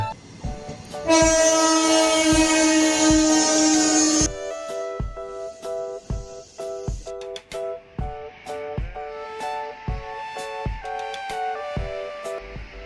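A Laos-China EMU electric train of two coupled sets sounds a loud sustained horn, then passes with rhythmic clicking of wheels over rail joints and a lingering tonal whine.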